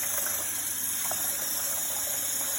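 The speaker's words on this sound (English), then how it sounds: "We're going to fill it up with water, just like this, and make sure you even it out." Tap water pours steadily into a pot of basmati rice being brined, a continuous even gushing and splashing with no talk, close by.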